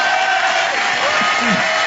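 A live audience cheers and applauds for a singer in a loud crowd roar with whoops and shouts, all at a steady level throughout.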